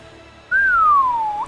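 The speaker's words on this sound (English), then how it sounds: "I'm sorry for the whistling." A single clear human whistle glides gently downward for about a second, close and fairly loud over quiet room noise, with a small upturn at the end.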